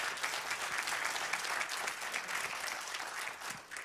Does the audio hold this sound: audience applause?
yes